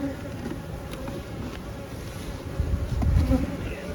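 Honeybees buzz at an open beehive during an inspection, a steady close hum with a few louder swells as individual bees pass near.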